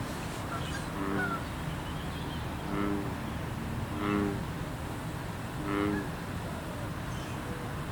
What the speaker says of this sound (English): As soon as you hear the bullfrog like that, you know that there's big fish